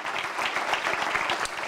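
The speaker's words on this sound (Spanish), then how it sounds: "Un aplauso al Señor por eso." A church congregation applauds during a sermon, with steady, dense clapping from a crowd that fills the whole short stretch at an even level.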